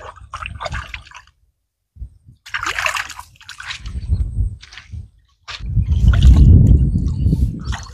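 Clean Ganges water splashes and trickles as meat for a desi tandoori dish is washed by hand, coming in short, close bursts separated by brief silences, then a heavier, continuous sloshing stream near the end.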